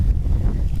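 Wind gusting across a microphone while bass fishing from a kayak, a brief loud low rumble of buffeting with no talk.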